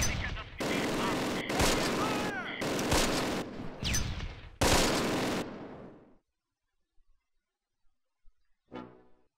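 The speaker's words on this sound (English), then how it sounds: "We're taking fire from that building just across the road." Gunfire bursts ring out from a building in the Close Combat wargame, several loud clustered volleys over about six seconds, then near silence before one short final crack.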